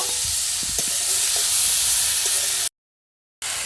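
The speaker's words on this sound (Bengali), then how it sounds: "তারপর এর মধ্যে কেটে রাখা চিকেনগুলো দিয়ে দেব তারপর ভালো করে নেড়ে নেওয়ার এর মধ্যে ভেজে রাখা সবজিগুলো দিয়ে দেব" Chicken pieces and fried vegetables sizzle in a hot pan with ginger while being stirred, a steady close broadband hiss with a few soft scrapes, cutting out briefly before resuming.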